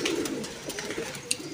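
Quiet murmuring coos from loft-kept breeding pigeons run together in a low continuous burble, faint and near, with a light tap or rustle near the end.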